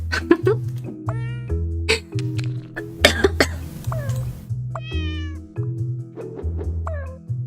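Cartoonish cat meows from the puzzle game Cats Organized Neatly repeat over a bouncy looping background melody, with short rising and falling mews arriving every second or so.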